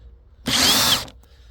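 A power drill backs screws out of the rear hood cover of a Ford Focus SW Mk3 estate. It gives one short, loud, high whirring burst of about half a second, close by, with quiet before and after.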